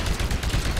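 Rapid gunfire bursts crackle in a Titanfall match, dense, loud and close, firing in a quick sustained rattle for under a second.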